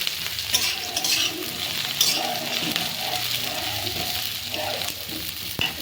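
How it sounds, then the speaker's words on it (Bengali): Chicken fries with browned onions in a pan, a loud, steady sizzle broken by repeated scraping stirs, close up and with no speech. "ঠিক এই সময় চিকেনটা দিয়ে দেবো।"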